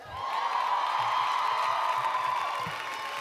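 Audience at a poetry show cheering and applauding, a dense, steady wash of claps and whoops from a large crowd, holding at full level for several seconds before easing slightly near the end.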